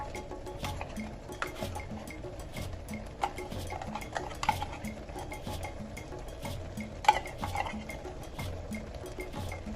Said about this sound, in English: So you just stir together and blend both in the pot.